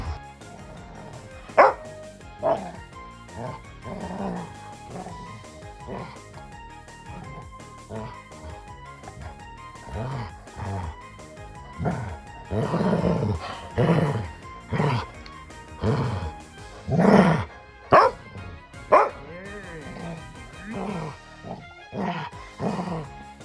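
An aggressive, threatening Labrador Retriever barks in a series of loud, close bursts that come faster and heavier toward the middle, with growly edges and short pauses between volleys.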